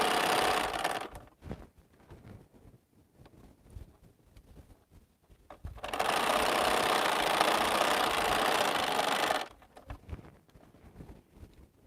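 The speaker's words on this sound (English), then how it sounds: "So now I'm going to sew 1/4 inch seams again and sew my rows together." A home sewing machine runs quarter-inch seams joining quilt block rows, starting with a brief burst, then pausing amid quiet handling noises before a steady, close mechanical whir lasts several seconds and stops abruptly.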